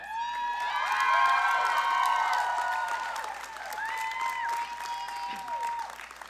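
A high school graduation audience applauds a salutatorian and her family, steady loud clapping mixed with cheers, whoops and shouted voices that swell early and then settle.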